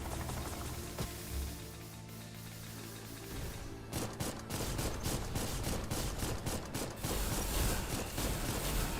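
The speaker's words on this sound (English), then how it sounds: "here comes the next bombing run" A bombing run in a mech video game produces dense, rapid bursts of explosions and mechanical clatter. After a quieter opening, the impacts pile up and carry on without pause, moderately loud and with no voice over them.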